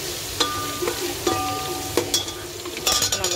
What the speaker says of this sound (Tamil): அரைச்சி வச்சிருக்க விழுதை சேர்த்துக்கலாம். பச்சை மிளகா விழுதுகளை சேர்த்துக்கிட்டோம்.